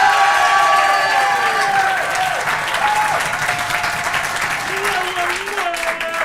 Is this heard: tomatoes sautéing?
no